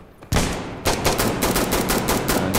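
Rapid automatic gunfire in a video game erupts after a brief pause, a dense rattling burst of shots that continues loud and close.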